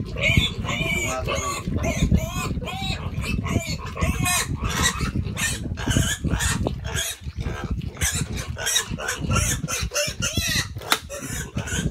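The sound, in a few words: pig (sow)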